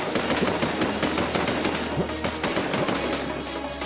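Video game gunfire rattles in rapid automatic bursts, loud and dense, with shots packed tightly over a rumbling low drone for the whole stretch.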